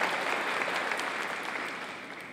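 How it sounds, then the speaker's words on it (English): An audience applauds at a Trent University convocation ceremony, dense steady clapping that stays loud and close and fades slightly toward the end. "Let's go with the applause every time."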